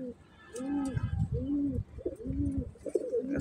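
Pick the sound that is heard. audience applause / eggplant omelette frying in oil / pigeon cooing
pigeon cooing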